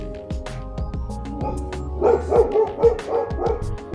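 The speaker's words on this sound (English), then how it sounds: "The dogs next door aren't used to my voice." Several dogs bark next door to a suburban house with a covered patio, a string of sharp, repeated barks that grow louder and more excited partway through, heard from a short distance outdoors.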